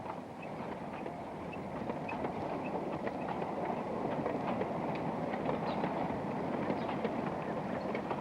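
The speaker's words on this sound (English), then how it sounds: "He could hear the train rumbling its way over the bridge." A sugar cane tram train rumbles over a bridge on a 1960s cane farm, a steady distant rolling with faint rhythmic wheel clicks and rattles throughout.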